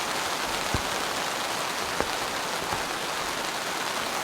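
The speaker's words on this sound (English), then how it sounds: "This is some of the heaviest rain I've ever had here." Very heavy rain pounds steadily on a camping tent in a loud, continuous hiss, with a few sharper drops striking nearby; no talking.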